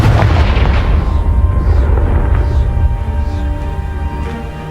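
The Confringo blasting spell in the Hogwarts Legacy video game sets off a loud, deep explosion whose heavy rumble fills the whole stretch and slowly fades, with no talk over it.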